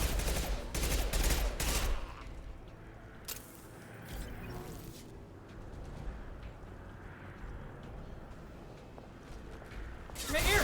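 Heavy gunfire in the video game Mass Effect 2, a loud burst of rapid shots at the start, then quieter scattered firing and battle noise, with a voice talking over part of it.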